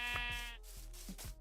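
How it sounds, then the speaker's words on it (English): A Minecraft sheep gives a short, clear bleat, a wavering nasal cry heard alone and close in a quiet game scene. "I'm gonna kill this sheep here."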